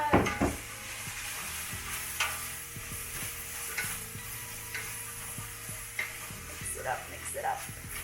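Chopped cauliflower and parsnip are stirred in a soup pot with a soft sizzle underneath. A spoon knocks and scrapes against the pot in a loose repeating rhythm, and there is a little quiet background talk.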